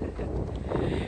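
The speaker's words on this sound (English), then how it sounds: "the wind is too strong for that ball" Strong wind gusting in a park with flowers, a steady roaring buffet across the microphone throughout the short stretch, loud and close with no other sounds standing out.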